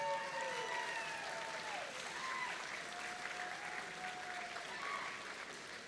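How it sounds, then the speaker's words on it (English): A sustained round of applause from a large audience at a district robotics competition event, continuous and fairly distant, with faint whistles and cheers mixed in. "So please join me in giving them a round of applause."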